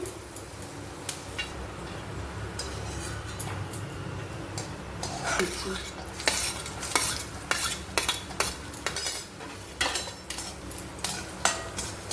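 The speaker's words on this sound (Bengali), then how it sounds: "আমন্ডটা ফ্রাই হয়ে গেছে, উঠিয়ে রাখছি।" Fried almonds lifted out of a pan while making navratan pulao, a steady frying hiss under repeated sharp clinks and scrapes of a utensil against the pan, growing busier toward the end.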